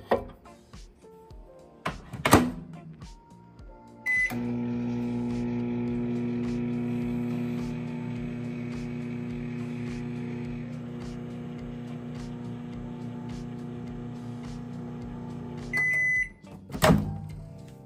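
A microwave oven runs steadily for about twelve seconds while heating ghee in a bowl, its low hum and fan drone framed by door clicks and beeps at the start and end.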